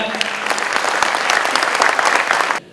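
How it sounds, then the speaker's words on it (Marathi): Loud, dense applause from an audience at an acting academy event with a celebrity guest, sustained clapping that stops abruptly near the end. "जोरदार टाळ्या."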